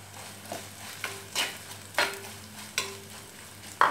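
Coconut pieces frying in a thick Kottayam-style prawn curry gravy with kudampuli, a low sizzle broken by several distinct stirring scrapes at roughly half-second intervals, close and without speech.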